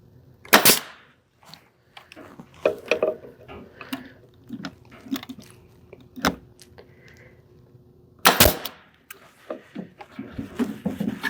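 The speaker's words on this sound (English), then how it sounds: "Now I'll shoot the nails." A nail gun fires nails into a small wooden bookshelf, giving sharp, loud pneumatic bangs separated by longer pauses, with softer clicks and handling knocks between shots, close up.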